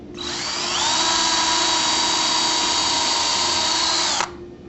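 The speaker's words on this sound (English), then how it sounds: "We'll go ahead and insert the drill and pre-drill another hole." A power drill runs steadily for about four seconds, a loud, close whine, while pre-drilling a screw hole for a bypass shutter track before it stops.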